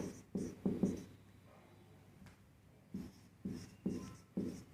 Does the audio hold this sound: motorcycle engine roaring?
no